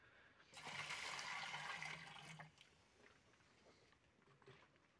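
A prepared solution for feeding Chinese cabbage poured into a sprayer: a rushing, splashing gush of liquid for about two seconds, then tapering to a faint trickle and drips.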